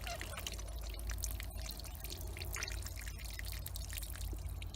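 Water drains and drips steadily out of a bucket of soaked paper being pressed into fire logs, a faint, continuous trickle with scattered drips over a low background rumble.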